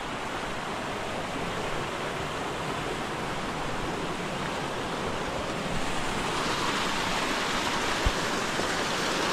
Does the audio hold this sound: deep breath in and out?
no